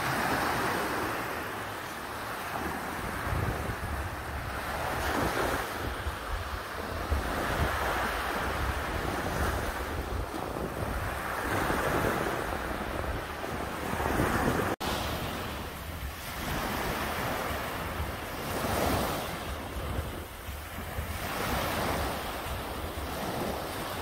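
Sea waves wash onto a beach at Chaweng, Samui, in Thailand, with steady wind across the microphone. The surf surges and recedes in a slow rhythm every few seconds, and no one speaks.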